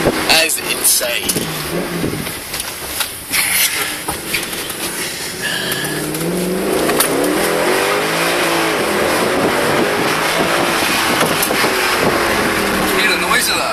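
A race car engine roars loudly from inside the moving car, its rising revs climbing in steady sweeps, with people talking over the noise early on.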